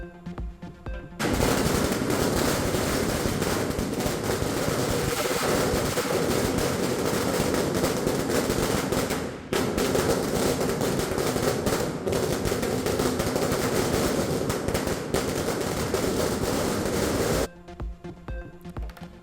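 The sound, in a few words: firecrackers bursting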